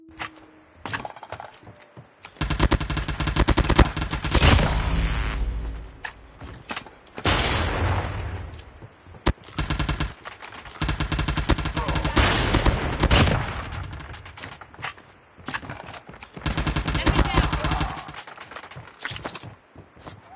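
Automatic KN44 rifle fire in Call of Duty Mobile, several loud sustained bursts of rapid shots separated by short pauses and reload noises, close and dominant with no talk.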